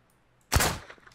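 A single sharp gunshot from the video game Miscreated, one loud burst with a short decaying tail, heard alone.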